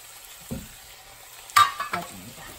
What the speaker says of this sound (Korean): 오징어가 살짝 익으면 한 켠에 김치 썰어 놓았던 김치를 넣고